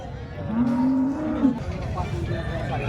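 A cow at a muddy cattle market in Sangola moos once in a long, loud, low drawn-out call, with crowd noise around it.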